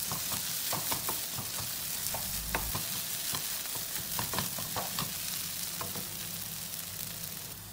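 Shallots browning in a pan, a continuous quiet sizzle broken by frequent clicking scrapes of a stirring spoon, with no voices.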